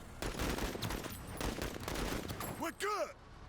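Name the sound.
gunfire in a tactical RPG video game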